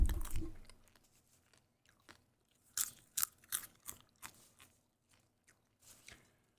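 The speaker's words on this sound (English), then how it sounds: "I'll wait until you guys can hear me do this with my popcorn." Cheese-flavored popcorn crunches between the teeth in close, quiet bites, with a louder rustle at the start, then a run of irregular chewing crunches after a pause.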